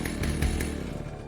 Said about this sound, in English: But his blood-spattered chainsaw has run out of fuel.